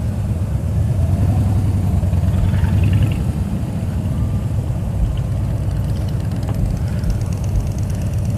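Motorcycles crawling in stop-and-go traffic on the first day of the Sturgis rally: a continuous low engine rumble and idle, steady and fairly loud throughout, no talking.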